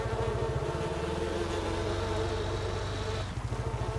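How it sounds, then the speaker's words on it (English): Bees buzz close by beehives on a farm in Farming Simulator 19, a continuous droning hum layered with a steady engine-like rumble, loud and unbroken throughout, with no speech. "And we get the bee sound as we get real close to those."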